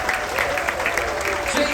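Sustained applause fills a room at a cruise-ship farewell talk, many people clapping at once in a thick, even roar, with faint crowd voices blended underneath.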